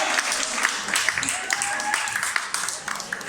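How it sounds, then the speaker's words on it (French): Guests at a Christian wedding applaud the bride and groom with scattered, moderately loud clapping that carries on under a speaking voice and crowd noise. "On applaudit."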